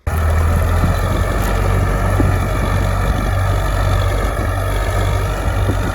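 A T-40AM tractor engine runs in a soft field in early spring with a cultivator attached, giving a loud steady low drone with wind noise, continuous and close, no talk.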